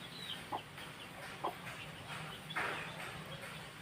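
Hen with chicks in a backyard, a few soft clucks and peeps over steady low background noise, faint and distant.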